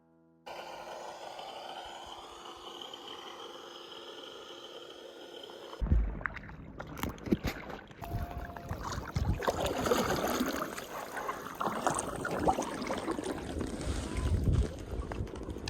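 A kayak is launched on a lake at a picnic area in Glacier National Park: a quiet stretch of steady background hum, then rough knocks, scrapes and splashy bumps close by, mixed with wind buffeting.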